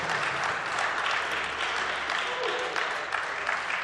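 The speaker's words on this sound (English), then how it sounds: "let's give a warm welcome and warm applause to the winners" Applause from an audience at a race event, greeting the winners with a few seconds of steady, even clapping heard from a distance at low level, with no voices over it.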